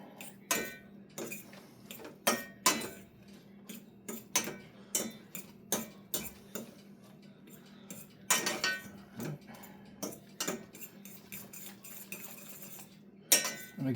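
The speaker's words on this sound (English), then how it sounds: "Stir it up, get that cheese in there good." Buldak black noodle sauce and cheese being stirred in a metal pot, with repeated sharp clinks and scrapes of a utensil against the pot in an uneven rhythm, close and clear.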